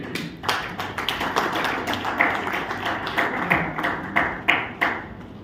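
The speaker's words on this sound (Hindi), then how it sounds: "आप सभी तालियों के साथ स्वागत करेंगे।" An audience at an Ambedkar Jayanti book release event gives scattered, uneven applause to welcome a guest onto the stage, with sharp claps rising above a roomy background hum.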